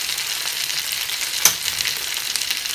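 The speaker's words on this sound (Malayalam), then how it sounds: "പുതിയാപ്പിളക്കോര വറുത്തത് ഒരുവിധം അടിപൊളിയായിട്ട് സെറ്റായിട്ടുണ്ട്" Red snapper fish fries in a pan with a steady close sizzle and crackle, and one brief sharp pop partway through, with no one speaking.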